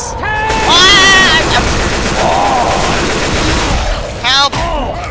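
Rapid automatic gunfire from a Left 4 Dead 2 match rattles loudly and steadily throughout, with excited players talking over it.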